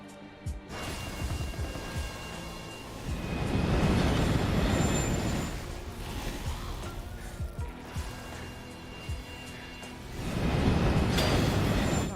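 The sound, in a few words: train in the video game Borderlands 3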